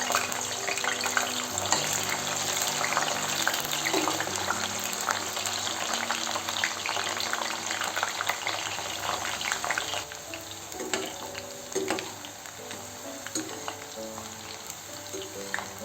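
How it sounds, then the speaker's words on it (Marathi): Jackfruit pieces frying in hot oil in a home kitchen, a steady bubbling sizzle that runs the whole time with a few utensil clinks, no talk. "फणस तेलामध्ये टाकून घेऊ।"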